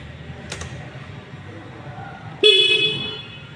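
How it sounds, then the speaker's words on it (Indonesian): A 2024 Honda Beat Deluxe Smartkey scooter horn honks once, loud and close, with a steady bright tone lasting about a second before fading, after a quiet stretch of low background noise. "Coba kita bunyikan klaksonnya ya."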